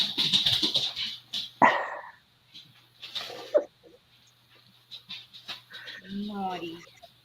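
A small house dog barks in sharp bursts indoors, a few yips and bow-wows spaced across several seconds, with someone talking in between and over them.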